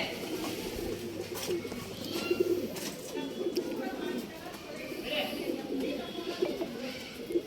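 Pigeons for sale cooing close by in a steady, overlapping low murmur, with a voice talking over them.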